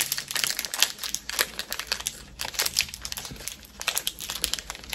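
A packet of vanilla cream jelly is torn open, with steady crinkling and crumpling of the wrapper close by for several seconds.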